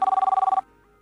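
A telephone bell trills in a rapid pulsing burst for about half a second, then cuts off abruptly, leaving quiet room tone.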